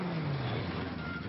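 A Ford Escort MK1/MK2 rally car at the Boucles de Spa brakes and corners with a steady engine note falling in pitch, heard close and alone for a brief moment.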